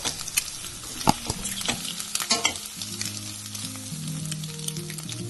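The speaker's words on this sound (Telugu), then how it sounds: "లైట్ గా కలిపి కొంచెం సేపు ఫ్రై అవ్వాలి." Egg frying in a pan while being gently stirred, a steady sizzle with scraping spatula strokes and soft clicks, close and loud, no voices.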